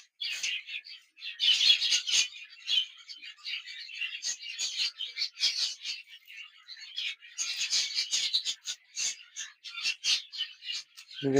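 Budgerigars chirp in a busy, high-pitched chatter, overlapping tweets and warbles close by, fairly loud and continuous with brief pauses.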